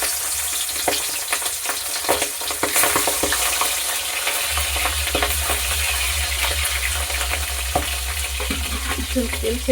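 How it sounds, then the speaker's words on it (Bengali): Fish heads frying in hot oil in a wok, a steady loud sizzle and crackle running the whole time with occasional stirring scrapes and a low hum underneath. "ওদিকে কড়াইয়ের তেল গরম হয়ে গেছে, এর মধ্যে মাছের মুড়োগুলো দিয়ে দিই।"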